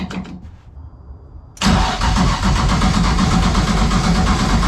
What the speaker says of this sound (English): Alright, I guess we'll crank her over.